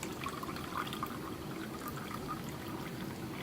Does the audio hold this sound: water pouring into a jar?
yes